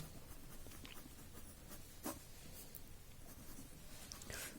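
A pen scratches across paper as a right triangle is written out in a class 10 trigonometry maths lesson, quiet, continuous strokes with small taps over a low room hiss, with no talking.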